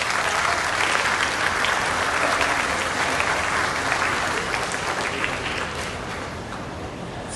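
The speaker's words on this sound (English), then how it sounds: "Why don't you please give a big round of applause for yourself?" Graduates and guests at the Sivasivani Group of Institutions 2025 graduation ceremony give sustained, full applause, a thick continuous roar of clapping that gradually fades toward the end.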